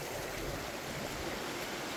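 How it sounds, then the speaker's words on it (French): Water from a river on Mayotte flows steadily down into the low Dzoumogné lake, making a soft, continuous, even rush without breaks or voices. "Donc on a encore de l'eau hein, qui descend dans le lac"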